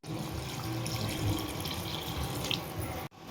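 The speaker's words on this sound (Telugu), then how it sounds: "దానికి 4 గ్లాసులు వాటర్ వేస్తున్నాను." Water being poured from glasses onto rice in a cooking pot for Rayalaseema kushka, a steady close splashing rush that runs about three seconds and then cuts off abruptly.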